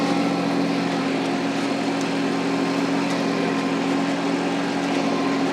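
A tractor engine runs steadily close by, a continuous droning rumble with a constant pitch and no breaks, loud and without any talk over it.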